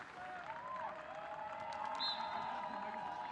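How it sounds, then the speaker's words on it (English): Crowd in the stands at a youth Quidditch match between Germany and France, cheering and whooping continuously with scattered applause, a steady moderately loud wash of voices with a few higher shouts rising above. "there is some enthusiastic cheering going on for sure"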